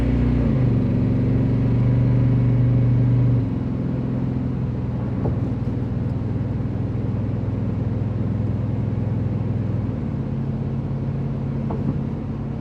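A truck with a 454 V8 engine runs steadily with a deep, loud low rumble throughout, its tone shifting slightly partway as the engine settles.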